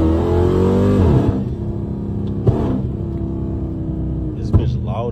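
A car engine revs loudly right at the start and then drops to a rough, rumbling idle with a couple of sharp pops, while someone talks over it.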